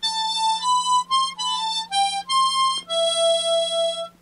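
A tremolo harmonica plays a quick run of separate notes, each tone rich and wavering, ending on a longer held note, close and clear with no voice.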